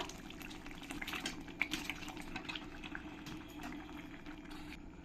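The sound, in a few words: chicken added to frying spice paste in pan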